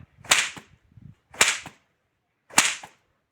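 A man cracks a long, even braided whip, producing three sharp, loud cracks spaced roughly a second apart, each with a brief snapping tail and no talking around them.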